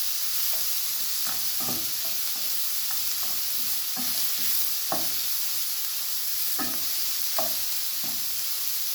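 Food sizzles and fries steadily in a pan during home family cooking, a constant hiss with intermittent stirring and scraping clicks, close and alone without talk.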